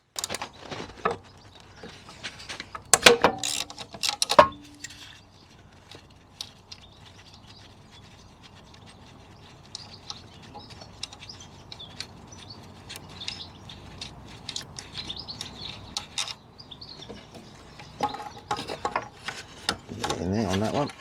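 A ratchet works on bolts while the ignition coil comes off a Honda Stream / Gyro NV50 scooter. Close, sharp bursts of rapid clicking come early and again near the end, with quieter handling and faint chirps in between.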